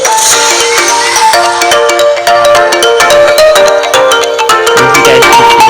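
A Samsung Galaxy Rugby Pro phone plays its ringtone at maximum volume, a loud, bright, continuous melodic tune of rapid plucked and chiming notes up close, with no talking.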